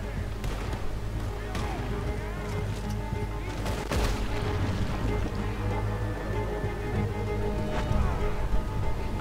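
Red Dead Redemption 2 gunfire cracks out in scattered shots amid a dense, noisy battle soundscape, with voices speaking over the action.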